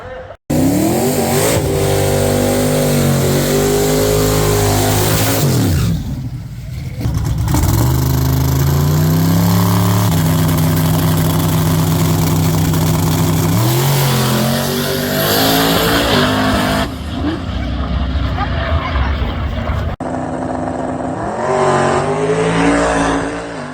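Race car engines roar and rev loudly at a street race on a rough surface, rising and falling in pitch as the cars accelerate, with brief tire noise and faint voices underneath.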